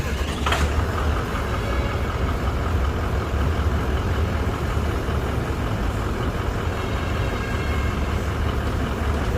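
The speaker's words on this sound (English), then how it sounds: "let's try to start the engine" Diesel V8 of a 2018 Toyota Land Cruiser VX firing up with a brief starter burst, then settling into a steady, low, rumbling idle heard close by and without talk.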